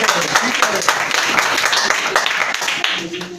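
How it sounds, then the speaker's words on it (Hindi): A group applauds at a teaching session, a sustained crackle of many hands clapping at once, fairly loud and steady for several seconds, with voices mixed in underneath. "जितने बता रहे हैं उनके लिए बाकी सब ताली लगाए।"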